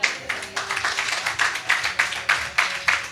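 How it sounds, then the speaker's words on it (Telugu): A worship congregation in Doha claps hands in a steady rhythm, many hands together in loud regular beats at roughly four per second. "చప్పట్లు కొట్టండి."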